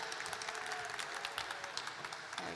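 Applause from an audience for a singer at the 2022 Somali Week Festival launch event: steady, dense clapping that carries evenly for a couple of seconds.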